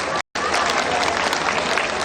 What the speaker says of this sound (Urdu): ان کے لیے شاندار تالیاں ہونی چاہیے۔